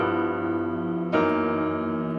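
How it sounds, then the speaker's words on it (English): A Yamaha P-125b digital piano in dual mode, strings layered with piano, sustains a rich held chord alone; a fresh note attack sounds midway, then the blended tone rings on evenly. "the dual feature mode, which is strings and piano at the same time"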